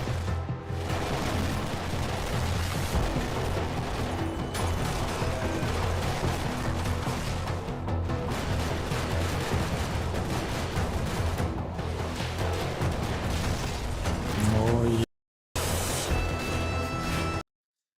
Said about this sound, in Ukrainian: А тут просто всі стріляють отак, от перестрілюються.